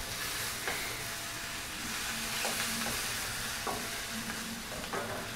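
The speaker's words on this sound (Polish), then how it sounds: "Proweczki ładnie się smażą." Sausages sizzle steadily in a frying pan, with a few clicks and scrapes of stirring breaking through the constant hiss, close up and without talk.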